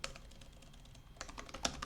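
Fingers type text on a computer keyboard, a quiet run of quick key clicks that sparse at first, then picks up into a denser burst.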